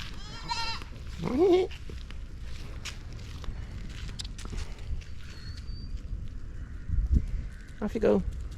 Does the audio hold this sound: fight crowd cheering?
no